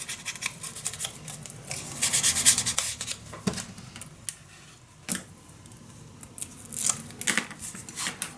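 Scissors snipping paper for a handmade craft folio, a few close, quiet cutting strokes and soft rubbing sounds spread across the clip with no talking.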